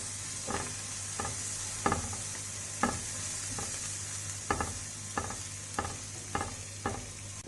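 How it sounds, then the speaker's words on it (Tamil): Vegetables including carrot sauté in butter in a pan for white sauce pasta, a steady soft sizzle punctuated by roughly a dozen scraping stirs of a spoon, close and alone without talk. "நல்லா இந்த பட்டரில் இந்த வெஜிடபிள்ஸ் வந்து வதங்கணும்."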